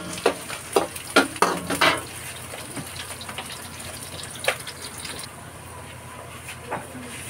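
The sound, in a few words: sautéing onion leaves in a pan for chicken and pork apritada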